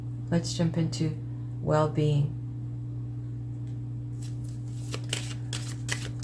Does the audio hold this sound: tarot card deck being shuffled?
yes